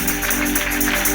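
A church congregation claps hands together, a dense, loud wash of many overlapping claps with a slight pulsing beat, close and filling the short moment.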